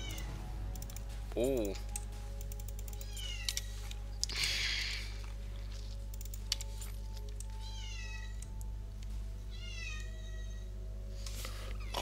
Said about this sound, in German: Oh nee, meine Katze, beziehungsweise die Katze von meiner Schwester.